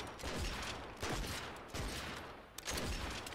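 Gunfire in the Fortnite video game, a few bursts of rapid shots spaced about a second apart, loud and close against dense game noise.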